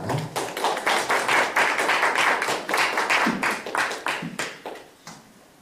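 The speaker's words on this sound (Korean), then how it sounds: "우리 박수로 환영해 주시면 감사하겠습니다" An audience claps to welcome a lecturer, a steady burst of close, crisp claps that thins out and fades toward the end.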